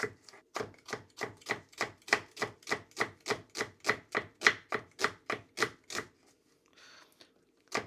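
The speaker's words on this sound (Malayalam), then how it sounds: "ഇനി നമുക്ക് ഒരു 3 മീഡിയം സവോള ഗ്രേവിക്ക് വേണ്ടിയിട്ട് എടുക്കാം." A knife chops three medium onions on a board for a Kerala-style prawn dum biryani gravy, in a steady run of about twenty crisp, evenly spaced strokes close up. The chopping then stops, leaving near silence.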